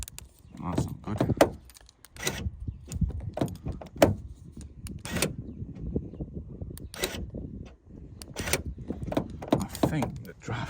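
A broken driver's door on a BMW drift car project car is forced, giving repeated thunks, creaks and metallic clunks in bursts, close by, with people talking at intervals.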